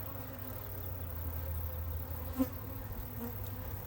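Honey bees buzz steadily around an opened three-tier hive packed with bees, a close, continuous drone with one brief louder swell.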